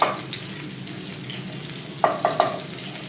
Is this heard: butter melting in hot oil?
yes